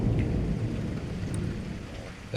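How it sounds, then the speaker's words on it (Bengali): Steady rain with a low rolling rumble of thunder fills a short effect in a Bengali spy thriller audio story, dense and continuous throughout with no voice over it. "মাঝ ফাল্গুনের রাতে হাড় কাঁপানো উত্তরে হাওয়ার সাথে ঝিরঝিরে বৃষ্টি শহরটাকে ঝাপসা করে দিয়েছে"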